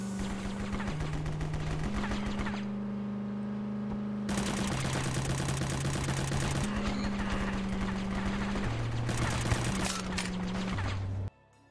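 Rapid automatic gunfire in the online shooter War Brokers, dense bursts of shots in long strings broken by short pauses, loud and close over a steady game music tone.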